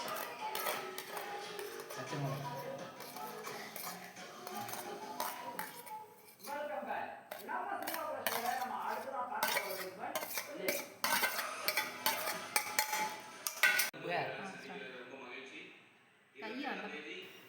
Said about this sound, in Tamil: இந்த முட்டையில் நம்ம வெட்டி வச்ச தக்காளி, வெங்காயம், புதினா, பச்சை மிளகாய் எல்லாத்தையும் போட்டு நல்லா அடிச்சுக்க போகிறோம்